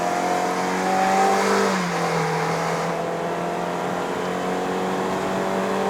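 A 2019 Toyota Yaris 1.5G climbing a mountain road, its engine droning steadily at high revs with a shift and a drop in pitch partway through, heard from inside the cabin.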